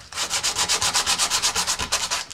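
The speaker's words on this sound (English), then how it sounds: "scuff the entire outside of this motor mount, as well as the centering rings" Sandpaper scuffing the outside of a fiberglass rocket motor mount: about fifteen quick, even back-and-forth rubbing strokes, close and steady, with no talking.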